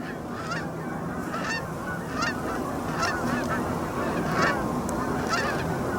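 A flock of geese honks repeatedly, calls overlapping at an irregular rhythm, fairly loud against steady outdoor background noise.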